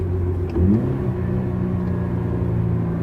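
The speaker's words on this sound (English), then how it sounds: "So we gotta clutch in, put it in third, rev it up a little bit" A 2020 Subaru BRZ with a manual gearbox is revved during a downshift into third, a steady low engine rumble with a brief swell early on, heard from inside the car with no talking.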